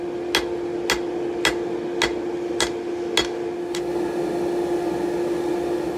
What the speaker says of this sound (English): we'll go to the anvil with a hand hammer, bring it back into line, draw it out a little bit more